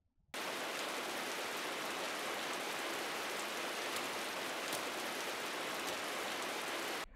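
Rain falls on a town in the Berserk anime as a dense, even hiss that starts abruptly and holds steady with no voices.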